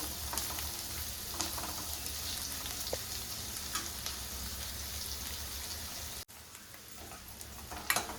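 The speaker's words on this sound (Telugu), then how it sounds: "ఆనియన్ కొంచెం వేగితే సరిపోతుంది, మరీ ఎక్కువగా వేగనవసరం లేదండి" Onions fry in a pan for Kerala-style squid curry, a soft continuous sizzle and crackle heard close by with faint stirring clinks, briefly cut off near the end before resuming, and no one speaking.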